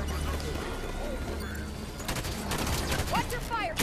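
Rapid bursts of gunfire in the sci-fi shooter Halo 5: Guardians, dense volleys of shots over continuous game noise with a voice talking over the action.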